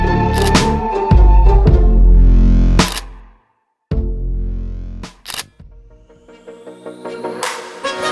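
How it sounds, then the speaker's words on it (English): Shutter of a Sony a7iii mirrorless camera firing for a long exposure on a travel tripod outdoors, heard as sharp clicks at the start and end of the exposure amid loud handling and ambient noise. "Now we just click the shutter button to take our photo."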